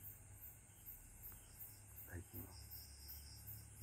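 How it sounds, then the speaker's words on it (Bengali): Crickets chirp steadily through a rural Bangladeshi autumn night, a continuous high-pitched trill with a few brief faint calls rising over it. "ঝিঝি পোকারা গান গাইছে, ডাকছে।"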